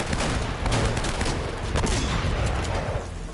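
Powerful enemy gunfire in Uncharted: Drake's Fortune, a loud, dense stream of rapid shots and booming impacts rattling without pause for a few seconds.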